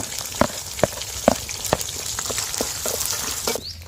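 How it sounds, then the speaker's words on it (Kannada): Green chilies and crushed garlic fry in a little oil, a close, steady sizzle broken by sharp crackling pops at irregular intervals before the hiss briefly drops away near the end. "ಹಸಿಮೆಣಸಿನ್ಕಾಯಿ ಸ್ವಲ್ಪ ಎಣ್ಣೆಲಿ ಚೆನ್ನಾಗಿ ಫ್ರೈ ಆಗಬೇಕು, ಖಾರ ಬರಬೇಕು."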